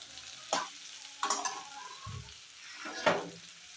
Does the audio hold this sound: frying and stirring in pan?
yes